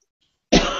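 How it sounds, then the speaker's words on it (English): A person with a cold gives one sudden, close, loud cough out of silence, with a rough breathy tail that trails off. "I'm coughing."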